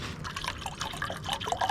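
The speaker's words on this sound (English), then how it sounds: "now I'm gonna put some water in there" Water trickles and splashes as it is poured into a homemade soda can alcohol stove, a brief, close liquid pour with small dripping sounds.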